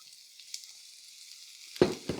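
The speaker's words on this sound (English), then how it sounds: "if you added them to that pan and you don't hear that sizzle, you added them too early" A quiet hiss, then a sharp burst of loud sizzling as mushrooms hit hot oil in a pan, with a second crackling flare moments later.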